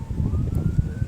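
A police siren sounds in the background on a sunny October day, a faint rising and falling wail above steady wind rumble across the brief stretch.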